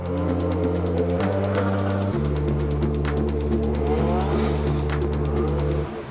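A Kimera EVO38, the reborn Lancia, drives with a loud, steady engine drone close up, its pitch stepping down at two gear changes in the first couple of seconds before holding a constant roar.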